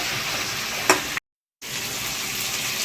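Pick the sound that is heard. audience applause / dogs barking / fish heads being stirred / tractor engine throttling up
fish heads being stirred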